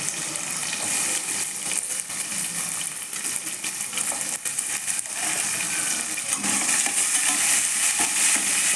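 Onion, garlic and tomato sauté in a pan for an egg tamarind curry, a loud, dense, unbroken hiss of frying that holds steady throughout with no one speaking.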